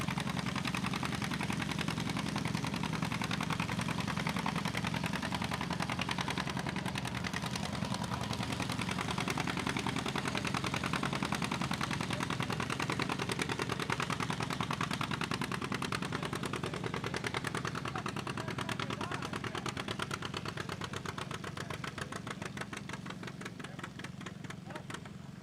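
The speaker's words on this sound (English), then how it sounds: "The John Deere G. Good looking tractor." A John Deere G tractor in the 5,500 pound uncut class at a tractor pull roars with a loud, steady engine drone. It holds for the whole stretch and eases off slightly near the end, with faint crowd or announcer noise mixed in.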